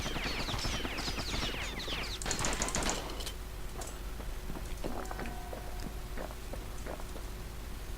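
Rapid ranged pistol fire in Bastion, quick overlapping shots crackling densely at first and then thinning into scattered hits over a steady hissing game backdrop.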